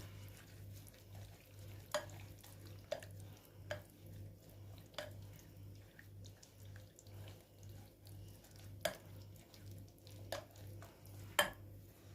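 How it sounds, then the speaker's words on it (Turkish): A spoon stirs and scrapes a cheese börek filling in a bowl with soft, irregular clinks over a low steady hum, close by and fairly quiet. "Şimdi bunları güzelce karıştıralım."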